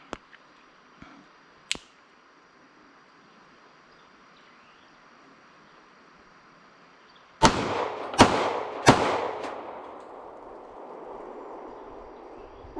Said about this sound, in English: Shoot it a couple of times. And shoot it a couple more times.